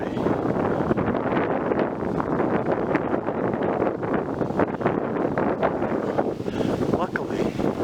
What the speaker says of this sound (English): There's a hell of a wind blowing, though, you can hear it.